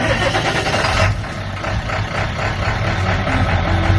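A Honda Fourtrax ATV with a freshly refitted carburetor cranks and catches, settling into a steady, rough low idle that stays close and loud throughout.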